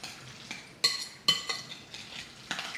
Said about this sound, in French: Je remue tout ça.